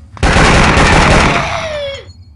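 A sharp burst of in-game gunfire from Vietnam 2: Special Assignment, a loud, dense spray of shots that sustains for about two seconds before a ringing tail fades out.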